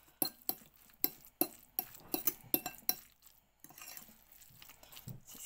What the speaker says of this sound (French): Et on va mélanger le tout.